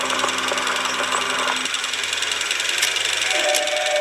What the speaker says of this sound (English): When you can hear the projector was doing tick tick